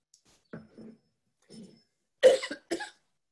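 A man at a public talk gives a few soft throat-clearing grunts, then two sharp, louder coughs close to the microphone, with quiet gaps between them.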